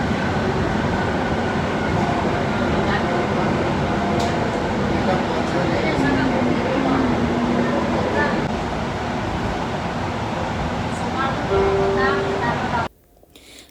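An Ahmedabad metro train runs toward Sabarmati station, a loud steady interior rumble and hum with faint electronic tones, ending abruptly near the close.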